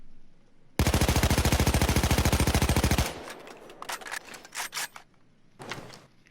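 An AKMSU Krinkov carbine fires a loud, rapid full-auto burst of about two seconds in the video game Payday 2. Softer mechanical clicks and rattles follow once the firing stops.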